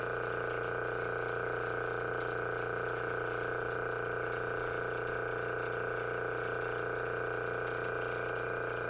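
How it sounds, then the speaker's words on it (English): Vacuum pump on a screen-printing exposure unit runs in a steady, unbroken drone with a faint mechanical ratcheting texture, constant in level throughout. "you're going to want to make sure you leave the vacuum on. Don't turn the vacuum off."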